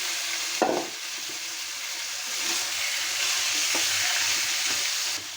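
Chicken pieces fry in a pan of hot oil with fried onions and crushed garlic, a steady bright sizzle running throughout, with a sharper crackle near the start and occasional soft stirring bumps.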